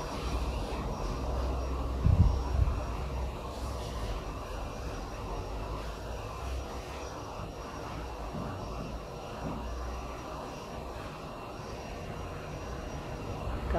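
An airplane passes close by overhead, producing a steady broadband engine roar and low rumble that holds at an even level for the whole stretch, with a slight bump early on and no talking.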